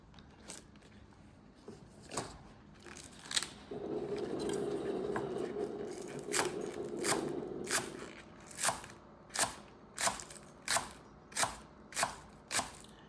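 Knife chopping green vegetable stalks on a cutting board for fried rice: scattered cuts at first, then a steady run of about ten sharp, evenly spaced chops close by, with a brief scraping rustle partway through.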